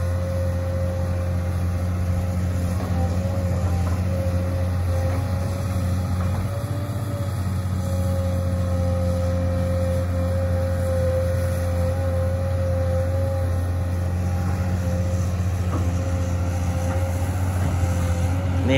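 A compactor vehicle working at a pond excavation site in Buriram, Thailand, its engine droning loud and steady at close range for the full stretch with a slight rise in pitch, no voices over it.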